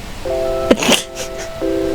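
Dialing tones from the video game Assemble with Care: steady paired beeps of a phone keypad, briefly broken by a short clatter, then resuming, clear and close with no talk.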